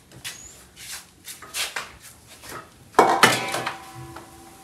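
Dishes, pots and pans are scrubbed and handled in a village kitchen in Punjab: clinks, knocks and metallic clatter come in separate bursts, with a louder clash of utensils about midway.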